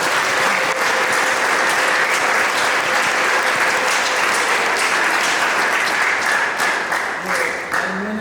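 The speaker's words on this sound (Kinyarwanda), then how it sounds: "Twongere tuyikomera amashyi twishimye." A church congregation at a worship service with choirs claps in sustained, loud, dense applause that fills the room without a break.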